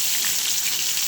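A bay leaf drops into hot oil in a home kitchen and sizzles hard, a loud, steady crackling hiss of frying that holds without a break.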